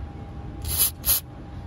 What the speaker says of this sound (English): So we're just gonna be spraying up around the contacts.